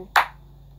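A single sharp hand clap, crisp and close, followed by quiet with a low steady hum underneath.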